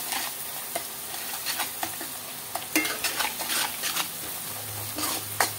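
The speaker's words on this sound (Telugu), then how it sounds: "మొత్తం చక్కగా ఇలా కలిపేసేసుకుందామండి" Ginger-chilli paste being stirred into a sizzling egg masala curry in a pan, with a steady fry hiss under repeated scraping stirs and soft clinks, close and moderately loud without talk.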